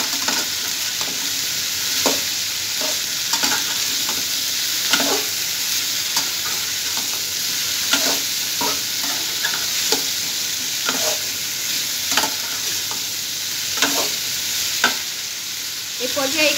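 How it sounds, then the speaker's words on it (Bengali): Mixed vegetables fry with kalonji and green chillies in a pan, a steady sizzle broken by repeated scraping stirs every second or two, close and fairly loud, with no talking. "সবজিটা ভালো করে ভেজে নেব।"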